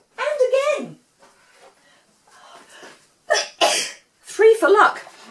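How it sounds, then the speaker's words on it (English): A woman sneezes twice in quick succession, close and loud, each with a sharp burst of breath, between short spoken phrases and a brief gasp. "I'm going to sneeze"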